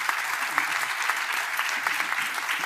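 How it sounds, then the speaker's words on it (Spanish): An audience applauds Colonel Manuel Sánchez Corbí with continuous, even clapping from many hands, a fairly distant and moderately quiet wash with no voices over it. "Otro aplauso."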